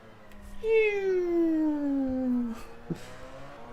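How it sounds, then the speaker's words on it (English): A hybrid race car at a Daytona sprint race gives off a clear, tonal electric whine that slides steadily downward in pitch for about two seconds, faint and fairly distant, ending with a short knock. "I love that hybrid sound."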